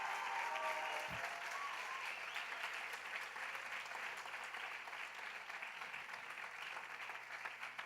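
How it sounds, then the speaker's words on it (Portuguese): A church congregation applauds to welcome a guest, the grandmother of a member, at a service. Sustained moderately loud clapping fills the space and fades slightly toward the end, with a brief voice at the start. "Uma salva de palmas para ela"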